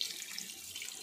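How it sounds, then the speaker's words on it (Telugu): Half a litre of water streams into a pan of potato kurma in a single faint, steady pour that lasts only a moment. "ఒక 1/2 లీటర్ నీళ్ళు పోతాం"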